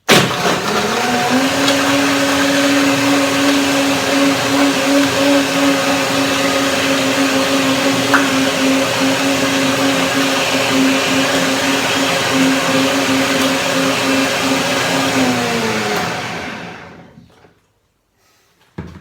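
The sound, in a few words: power blender blending smoothie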